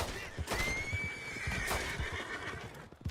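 A horse neighs and whinnies loudly in a video game, a rising drawn-out cry over rapid clip-clop hoofbeats, close and continuous for about three seconds.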